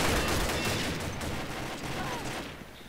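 Rapid, dense gunfire in the video game Combat Arms, with a G36E Valkyrie and CZ Scorpion EVO 3 A1 in play, rattling continuously at close range and tapering slightly toward the end.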